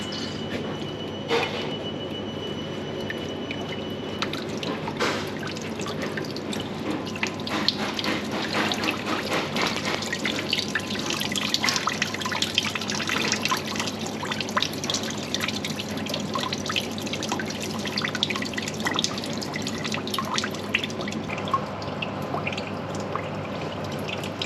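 Water drips and trickles from a leaking sink trap under a basin, a scattered run of small wet ticks and splashes over a low background rumble, close and without speech.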